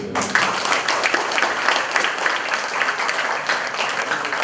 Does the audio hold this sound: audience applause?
yes